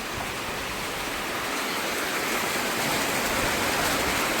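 Steady, dense hiss of rain pouring down, a constant broadband wash with no pauses or voices.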